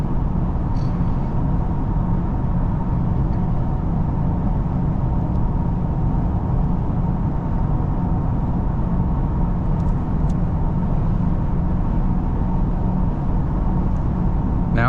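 Steady interior road noise from a car cruising along an interstate at about 69 mph, a constant engine and tire rumble with wind hiss and no pauses or speech.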